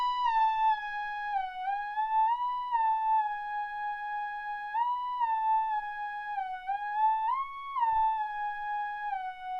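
A West Coast style synth lead made in Reason, a smooth sustained tone gliding slowly up and down in pitch with gentle bends, clean and alone, moderately quiet.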